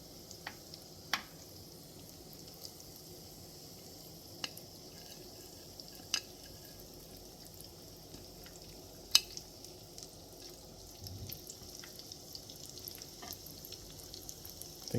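Chicken for country fried chicken fries quietly in hot oil, a soft continuous sizzle broken by a few sharp pops and crackles.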